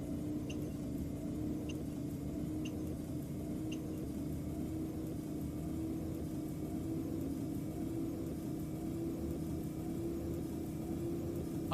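A 2016 Blue Bird Vision bus engine driving in the Route 2212 game, a steady low rumbling drone held at constant pitch throughout, quiet and unbroken with no talk.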